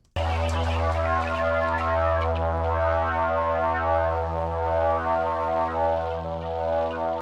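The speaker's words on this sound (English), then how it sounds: "this is just for the intro, but it's this like super bassy sub effect" A deep, sustained sub-bass drone with rich steady harmonics, loud and continuous, slowly fading toward the end with no voices.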